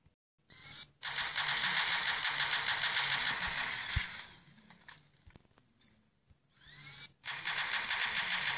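A minigun firing in a Minecraft Pocket Edition mod, two long sustained bursts of rapid, buzzing fire separated by a quieter stretch of scattered thuds, loud and close.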